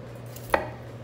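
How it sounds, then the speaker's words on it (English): A single quick knife cut around the core of a cauliflower head, one short crisp slice close by on a cutting surface, standing alone over a low steady kitchen hum. "I'm just going to take my knife and cut around the core"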